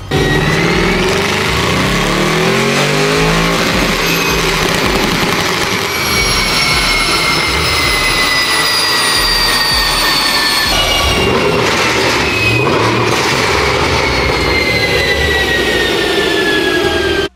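A tuned Audi RS6 engine revving hard on a rolling dyno, a loud continuous roar with rising and falling tones, rushing and droning for the whole stretch with no talking.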